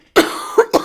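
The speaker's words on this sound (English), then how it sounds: "he's making me cough" A person gives a sharp, loud cough close to the microphone, followed quickly by two shorter coughs, in a tight cluster of three.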